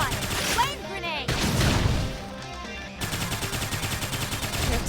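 Rapid gunfire bursts from combat in Xenoblade Chronicles X, with clustered shots amid clashing battle effects and music, loud and close, while a voice talks over parts of it.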